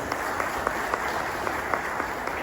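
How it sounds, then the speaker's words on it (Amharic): A small group claps steadily together for a couple of seconds, an even patter of applause with no voices. "ሁላችሁም አጨብጭቡለት በደንብ አድርጋችሁ"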